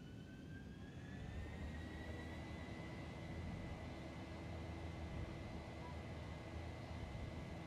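Boeing 737-800 jet engines spooling at takeoff power in the X-Plane 11 simulator, a steady loud broadband roar with a rising whine, continuous throughout with no talk.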